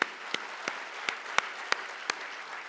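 Audience applauding to welcome Swami ji at a 61st Foundation Day event for Ruchi group, a sustained wash of clapping with a few sharp, evenly spaced louder claps standing out above it.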